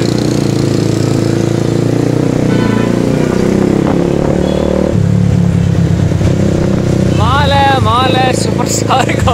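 A 250 cc Super Star 200 motorcycle engine drones steadily while ridden in second gear at around 62 km/h, its note shifting partway through, with wind noise and a voice talking over it.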